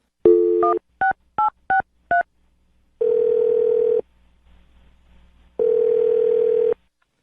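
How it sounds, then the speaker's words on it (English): A rapid series of telephone keypad tones, several short beeps, followed by two long ringback tones separated by a pause; loud and clear, no talking. "I'm going to dial her phone number right now"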